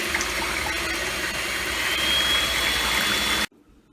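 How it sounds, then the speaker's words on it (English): An electric mixer running on low beats Yorkshire pudding batter with a steady, close whirring hum that holds for about three and a half seconds, then cuts off abruptly into near silence. "The mixer, I have it on low so I don't splash everywhere."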